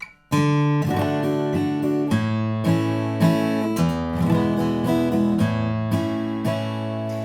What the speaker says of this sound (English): I'm just strumming the strings starting with the ring finger